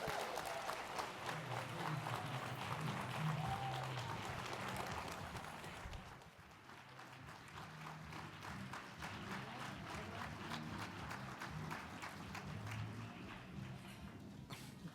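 Audience applause after a presentation on HBCUs and artificial intelligence, a steady dense wash of clapping across the whole span, easing slightly midway before continuing at a moderate distance with a faint voice underneath.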